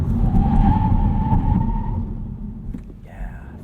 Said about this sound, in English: Quick braking test